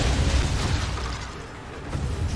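Missile explosion in a Metroid video game, a loud rumbling blast with a broad, noisy roar that holds steady, dips briefly midway, then swells again, without any voices.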